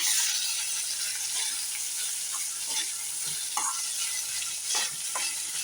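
Cooked rice being stirred together with garlic in a pan, giving a steady soft sizzle with scraping and stirring strokes throughout, close and moderately loud with no talk.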